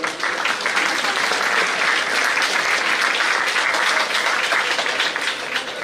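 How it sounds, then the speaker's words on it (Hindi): Audience applause at a student merit award ceremony, dense and loud continuous clapping from a large crowd, sustained evenly throughout with no talk over it. "ताली बजाइए"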